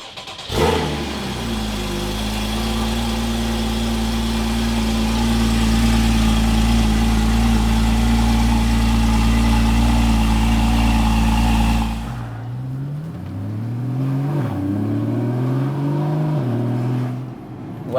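A Porsche 981 Cayman GTS engine cranks and fires up, then settles into a loud, steady rumbling idle before a few quick revs near the end.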